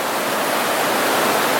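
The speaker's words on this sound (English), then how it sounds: "You see there, that's a lot of water going down there" Steady, loud broadband roar of river water pouring over Shrewsbury Weir after Storm Arwen, a dense continuous rush with no pauses and no voices.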